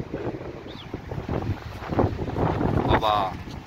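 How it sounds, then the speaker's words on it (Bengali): Strong wind blasts straight into a phone microphone outdoors at a height above water in Constantine, Algeria, making a rough, rumbling buffet that swells and dips, with faint voices underneath. "বাতাসে তো মনে হচ্ছে কি মোবাইল উড়িয়ে চলে যাবে গো"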